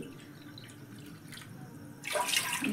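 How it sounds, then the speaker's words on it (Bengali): Water pouring into a pot of rice for cooking a watery rice dish, a soft faint trickle that swells into a louder, splashing pour near the end, with no voices. "3 বাটি জল দিলাম।"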